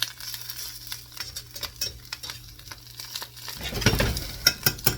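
Onions and ham frying in a pan for an omelette, a steady soft sizzle with stirring scrapes and a few sharp utensil clicks near the end.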